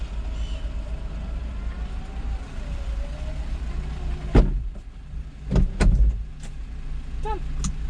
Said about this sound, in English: when you're parking up, the roof is literally as quick as putting up a window